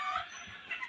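Chickens on a large poultry farm clucking, a faint, brief burst of soft clucks and calls from the flock heard at a distance.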